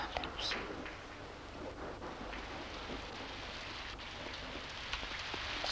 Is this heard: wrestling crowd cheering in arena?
no